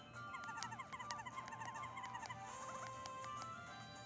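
A paper toad croaks in the Paper Mario video game, a run of rapid chirpy croaking calls over steady game background music.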